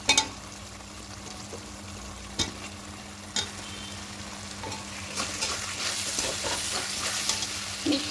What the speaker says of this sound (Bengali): এবার ভেজে রাখা আলুগুলো দিয়ে দেবো।